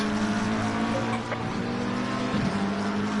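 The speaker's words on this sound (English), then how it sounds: "the number 7 McLaren as he heads up to the right-hander of Dunlop" Onboard the number 7 McLaren sim race car at the Nürburgring heading toward a right-hand corner, a steady engine drone holds close and loud, with a brief tire scrub near the end.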